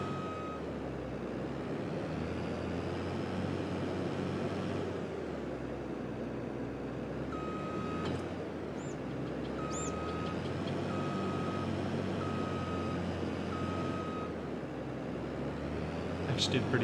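In Farming Simulator 22, a truck backs up a trailer in a field, its reversing alarm beeping at a steady, evenly spaced rhythm over a low engine drone while someone talks.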